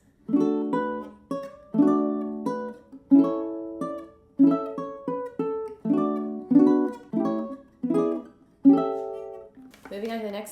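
Ukulele strummed through an intermediate arrangement at a brisk tempo: bright, close chords struck in a steady rhythm, each ringing and decaying before the next, ending on a short burst of noise.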